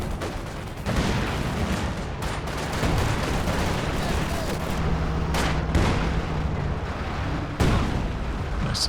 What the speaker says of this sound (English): To see this barrage popping off there